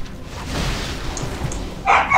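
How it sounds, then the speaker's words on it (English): Dogs in Torchlight 2 giving a short bark, then a louder yip near the end, over low game background noise. "Everyone loves dogs."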